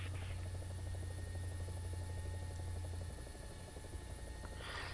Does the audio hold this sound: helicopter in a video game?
yes